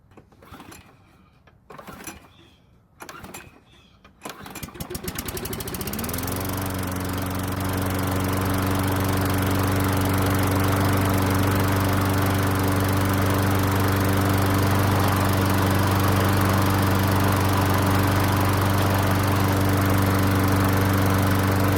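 A John Deere lawn mower engine cranks a few times with uneven bursts, then catches and settles into a loud, steady running drone with a constant hum, close by and alone, on a mower that has trouble staying running.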